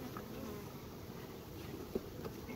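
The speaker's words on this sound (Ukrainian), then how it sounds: "Ось бджоли, бачите, є достатньо, там великі." Honeybees buzzing around an opened beehive during an inspection, a continuous dense drone close by at moderate level with one brief knock.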